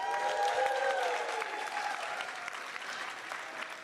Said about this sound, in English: Judging from that applause